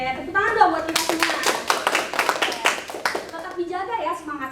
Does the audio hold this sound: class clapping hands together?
yes